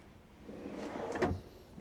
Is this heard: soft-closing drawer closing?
yes